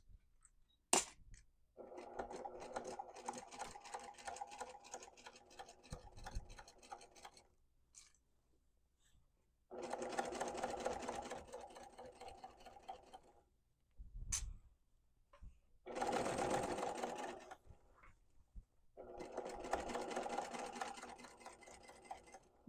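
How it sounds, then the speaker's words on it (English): Sewing machine stitching tiny seams on a quilted tote bag with a 1/8 inch presser foot, running in four steady whirring bursts separated by quiet pauses, close and fairly soft. "I have an 1/8 inch presser foot on my machine, so that makes that sewing little tiny seams really easy."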